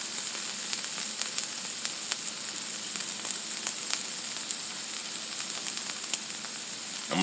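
Onions and peppers sizzle on a hot griddle for smash burgers, a steady close crackling hiss with scattered pops and a few scrapes, no voices.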